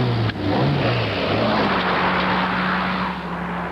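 A Ford sports car engine roars loud and close, revving as the car passes and holding a steady, throaty drone.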